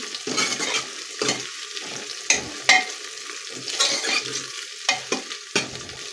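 Green chillies and sambar ingredients sauté in a pan, a continuous sizzle broken by repeated scraping stirs and soft clicks of a spoon against the pan.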